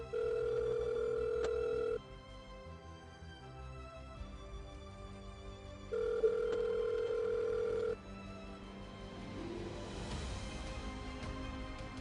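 A telephone rings out on a call in two long, steady electronic tones, each about two seconds, separated by a pause, followed by quieter background noise.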